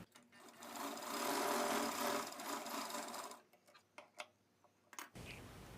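A sewing machine runs a seam along a sleeve, a loud continuous rapid whirring for about three seconds, then stopping and giving way to a few scattered clicks and handling knocks.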